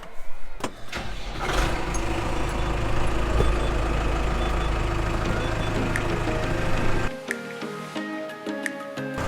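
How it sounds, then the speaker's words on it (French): A New Holland tractor engine cranks and catches, settling into a loud, steady diesel rumble close by for several seconds before cutting off abruptly near the end, with no talking. "On va démarrer le Newland pour distribuer le foin."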